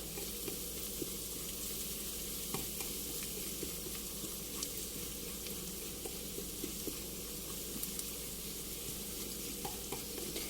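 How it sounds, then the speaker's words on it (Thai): Garlic frying slowly over low heat in about a tablespoon of lard, a soft continuous sizzle with faint crackles and occasional light stirring, steady and quiet throughout. "เจียวด้วยน้ำมันหมูนะคะ เช่นเคยใส่น้ำมันหมูไปประมาณสักช้อนโต๊ะค่ะ ใช้ไฟไม่ต้องแรงนะคะ ค่อยๆเจียวไปเรื่อยๆ"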